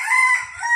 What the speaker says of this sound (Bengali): এই যে মোরগ ডাকে